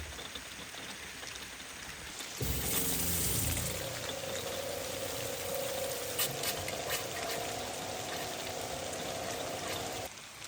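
Water drains from a teardrop trailer's gray water drain pipe during winterizing, with a sudden steady close gushing splash starting after a quiet hum and running continuously to the end.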